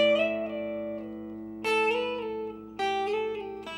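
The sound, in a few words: guitar lick on first string: slides and pull off to open string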